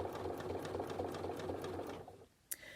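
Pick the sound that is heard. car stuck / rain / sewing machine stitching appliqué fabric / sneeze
sewing machine stitching appliqué fabric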